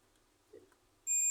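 A multimeter in continuity mode, probing a CRT TV's vertical IC pin against the heat-sink ground, gives a loud steady beep that starts suddenly near the end after quiet handling noise.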